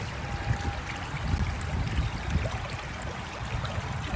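Creek water flows fast through a riverbed fed from wetlands beneath an interstate, a steady, dense rushing wash that stays even and close throughout, with no voices.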